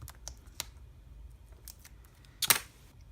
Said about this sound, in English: So we'll take our tape backing off there.